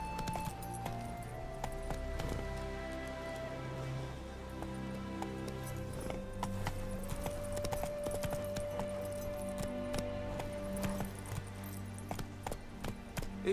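Roach, the horse in The Witcher 3, runs with steady, continuous hoofbeats under a sustained bed of music and game ambience, with faint jangling and clinking from tack throughout.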